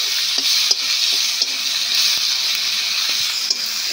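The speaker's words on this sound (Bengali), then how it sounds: "একটু লাল লাল করে ভেজে নেব" Onion and tomato frying in a pan for a rohu fish curry with ridge gourd and potato, giving a steady close sizzle with scattered pops and scraping stir sounds throughout, and no talking.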